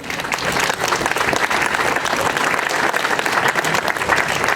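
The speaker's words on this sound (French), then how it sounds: "j'aimerais bien que vous applaudissiez un petit peu tous ceux qui y ont participé" Warm, dense applause from a crowd at the 2013 Sisteron trade fair, honouring the fair's participants, steady and fairly loud with a faint murmur of voices beneath.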